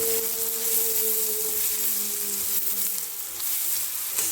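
Raw peanuts and dal are dry-roasted in a pan with a soft, steady sizzle and light stirring. It plays quietly and continuously, with no voices.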